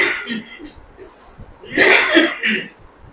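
A man coughs and clears his throat indoors, a couple of raspy bursts close by after a stretch of quieter background sound.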